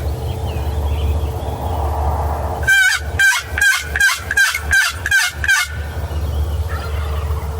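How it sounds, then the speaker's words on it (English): A wild turkey gobbles at dawn, loud and fairly close, in one rapid rattling burst of about seven pulses lasting roughly three seconds, over a low outdoor rumble. "There, it's got a gobble."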